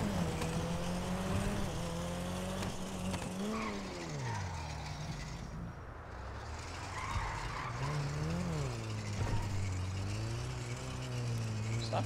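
An Elegy RH8 drifts in a video game, its tires skidding and squealing as the engine pitch rises and falls through repeated slides. The sound is loud and sustained, with brief talk at times.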